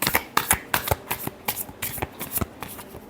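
Tarot cards shuffled by hand during a love reading, a quick close run of papery riffling flicks and slaps in an irregular rhythm with no speech.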